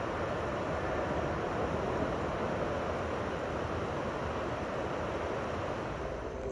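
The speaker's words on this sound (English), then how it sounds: "The river outside my window, and peaceful, runs through town." A river runs through town outside a window in Gatlinburg, Tennessee, making a loud, steady rushing wash that holds unbroken from start to finish, with no voices over it.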